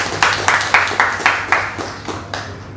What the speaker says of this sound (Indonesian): Tepuk tangan buat penyelenggara acara.